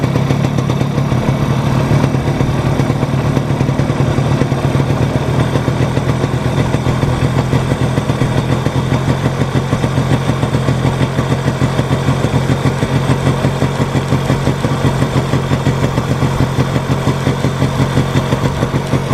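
A Yamaha RX motorcycle engine idles at raised RPM, a loud, steady, rapid two-stroke putter that stays close and unbroken for nearly twenty seconds with no talking.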